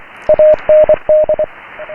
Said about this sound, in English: So I can make it quite challenging to listen to by making the actual Morse signal low down in the noise, or I can bring it up